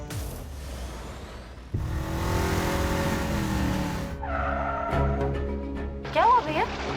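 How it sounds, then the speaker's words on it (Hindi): A car engine with a fault runs loudly and roughly with a steady drone, shifting and sputtering near the end, in a street scene with music and voices around it. "मैम वो लगता है इंजन में कुछ प्रॉब्लम हो गई है"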